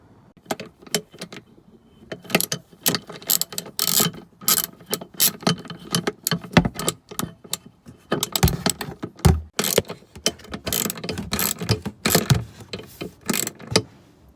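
A front windscreen wiper motor on a Mercedes B200 W246 is tested after repair, giving a quiet run of irregular mechanical clicks, clunks and ratcheting knocks with short pauses between bursts.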